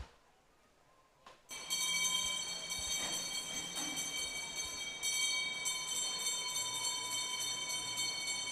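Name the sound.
bell rung for swimmers' last 100 metres at swimming gala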